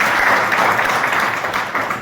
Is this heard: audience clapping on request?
yes